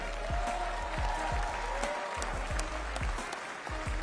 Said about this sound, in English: Please give a round of applause for our labor community.